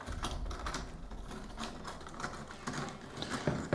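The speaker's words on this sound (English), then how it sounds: "we're going to load the nails by opening up the latch, grabbing our nails, putting them inside the magazine," Roll cap nails are loaded into a nailer magazine, giving a steady run of rattling, clicking metal mechanism noises up close with a few sharper clacks at the end.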